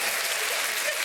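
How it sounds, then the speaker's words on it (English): A brief burst of dense applause from a crowd, steady and fairly loud throughout. "That's an applause."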